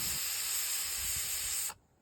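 A pressure cooker steaming kharvas on a wood-fired stove releases a loud, steady, high-pitched whistling hiss of steam that runs for almost two seconds and then stops suddenly.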